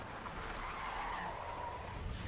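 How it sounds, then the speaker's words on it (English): A car in the Final Fantasy 15 Omen trailer skids with a steady, high tire squeal over a rumbling bed of noise, brief and fairly faint. "Aw, he crashed his car!"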